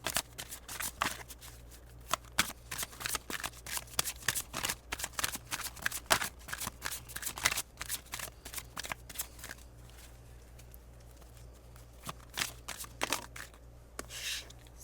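Tarot cards being shuffled by hand, a long run of quick crisp riffling snaps and soft paper flutters, close and steady with brief pauses between bursts.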